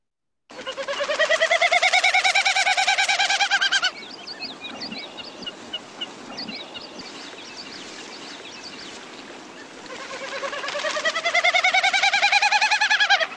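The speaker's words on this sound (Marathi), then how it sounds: "दुसरा जो कॉमन स्नाईप आहे त्याची शेपटीची पिसं हा आवाज करतात" A common snipe drums with its tail feathers, making a loud pulsing, wavering hum in two long bursts separated by a quieter stretch of softer sound.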